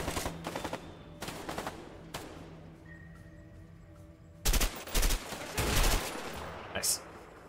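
Shotgun gunfire in the video game A Way Out comes in loud, close bursts, with clusters of shots early on and heavier, booming blasts later, separated by short lulls.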